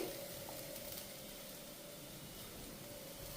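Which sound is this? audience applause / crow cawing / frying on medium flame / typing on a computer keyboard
frying on medium flame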